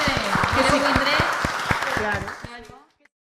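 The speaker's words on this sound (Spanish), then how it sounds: "Ah, que tenemos que aplaudir" A small studio group claps together for a couple of seconds, the dense patter mixed with talk and laughter before fading out to silence.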